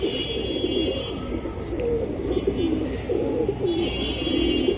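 A pair of hammer pigeons coo close by, soft throaty rolling calls repeating over a low, steady background.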